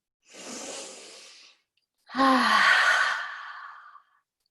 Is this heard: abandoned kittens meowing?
no